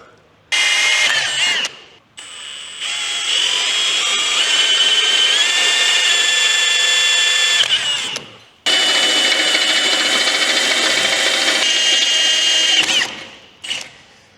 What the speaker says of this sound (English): Now I'm up to 3/8. It just makes it for easier drilling.